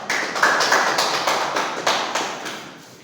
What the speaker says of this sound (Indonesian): Silakan duduk dan berikan tepuk tangan